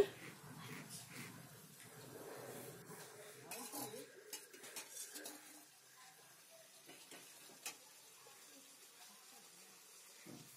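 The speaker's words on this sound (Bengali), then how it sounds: "এবার এটাকে ভালো করে কষিয়ে নেব।" Boiled potatoes stir-fried in a pan, faint scraping and clinks of a spatula against metal over a low sizzle, with irregular knocks throughout, very quiet and close.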